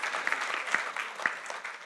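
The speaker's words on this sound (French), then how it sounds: "on applaudit beaucoup pour Marc." Audience applause during a church service: a short, moderately loud burst of many hands clapping, dense and steady with a few sharper claps standing out, and no talking.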